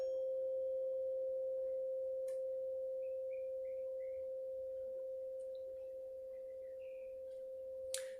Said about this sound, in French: le 528 qui est lui dans un amplificateur en plus